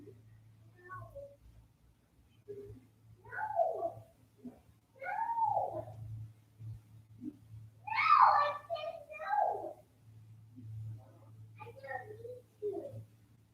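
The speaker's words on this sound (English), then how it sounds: "And as you can hear, our toddler doesn't want to go to the toilet." A toddler whines and fusses in short wailing bursts from across a room at home, protesting about going to the toilet, over a steady low hum with no adult talk.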